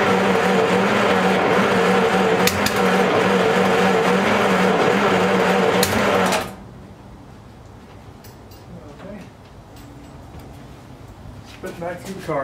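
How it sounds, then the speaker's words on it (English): A 1939 Buick engine runs loud and rough, spitting back through the carburetor, for about six seconds before cutting out into quiet background noise with a few faint knocks. "Spit back through the carb."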